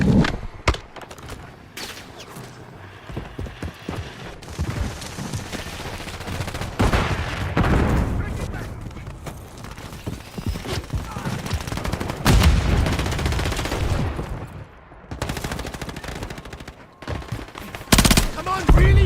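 Gunfire in the video game Wuthering Waves: loud bursts of automatic fire and single shots, clustered then pausing, with voices calling out between and over the shots.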